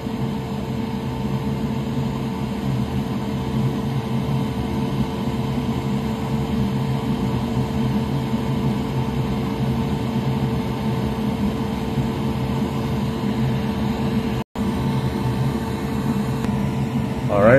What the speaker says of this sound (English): Pardon the noise, but you should always use your fume extractor,